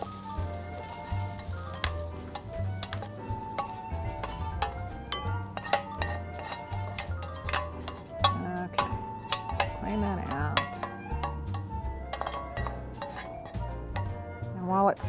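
Hot spiced oil sizzles steadily in a pan while a utensil scrapes and clinks against metal in busy, irregular strokes, close and continuous, as it goes into a bowl.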